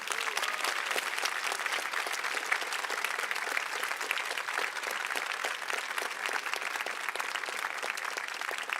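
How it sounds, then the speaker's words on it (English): Sustained applause from a conference audience at JuliaCon 2024 honoring the prize-winning JuMP team, a dense, steady clatter of many hands clapping evenly throughout with no voices standing out. "let's give them an applause that they'll hear on the video."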